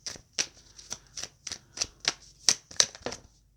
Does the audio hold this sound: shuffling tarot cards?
yes